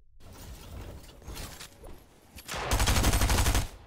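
Fortnite gunfire, rattling mechanical clicks and scattered shots building into a loud, dense burst of rapid fire near the end.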